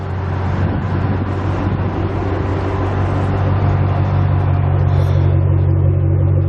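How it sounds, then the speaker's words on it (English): A 2007 Ford Mustang engine and exhaust rumble steadily up close, a deep continuous drone with no revving and no voices. "Great sounding exhaust system."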